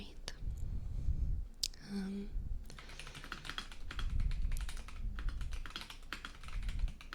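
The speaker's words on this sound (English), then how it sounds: "This is me typing in my notes app to make some sounds for McJake" Quick, light tapping on a computer keyboard while writing in a notes app, rapid irregular clicks in bursts, close and clear, with soft whispering between runs.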